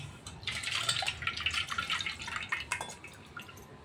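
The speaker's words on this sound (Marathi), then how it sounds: "आंबे धुवून घ्यायचे आपण." Water splashing and dripping as mangoes are washed, with faint, irregular trickles and small splashes at low volume, no voices.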